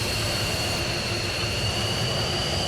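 A VTOL jet aircraft in a video game roars steadily with broadband noise and a high whine throughout, loud and unbroken, with no voices.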